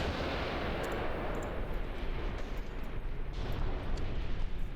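Artillery shells falling and exploding in the Graviteam Tactics war game, a steady rumbling barrage of distant blasts blending into continuous low thunder.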